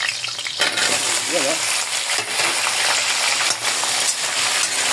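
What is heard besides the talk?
potatoes frying in oil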